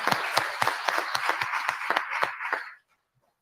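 A small audience claps in a room, with sharp individual claps at a steady rhythm, about a dozen distinct beats over a soft bed of clapping, before it stops abruptly into silence.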